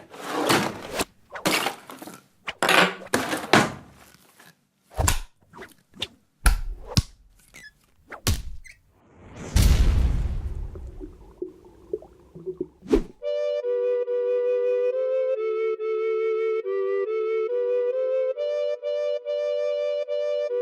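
A recorder duet plays Lightly Row, lead and harmony together in a steady, clear melody. It is preceded by a run of loud clattering knocks and thumps.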